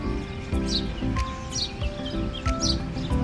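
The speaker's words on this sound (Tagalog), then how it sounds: "Kasi ang cute ng ibon, guys" Bird calls outdoors, short bright chirps repeating every second or so, moderately close, over a steady low background rumble.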